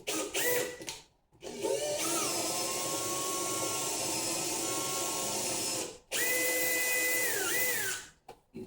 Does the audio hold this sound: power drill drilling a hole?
yes